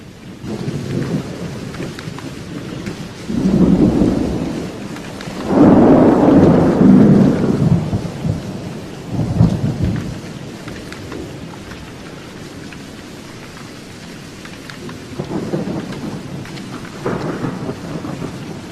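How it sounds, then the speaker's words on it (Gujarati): Heavy monsoon rain pours steadily in Gujarat while deep rolls of thunder rumble several times, some long and close, others fainter, with no voices. "બપોરના 3 વાગ્યા સુધીમાં પણ વરસાદનું જોર ઓછું થયું નહોતું"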